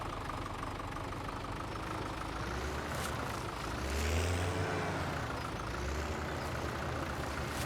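Small tractor engine in Farming Simulator 17 carrying a big front bucket, a steady low idling chug that swells briefly as it revs and then settles, with no speech.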